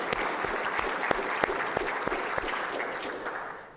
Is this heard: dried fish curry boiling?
no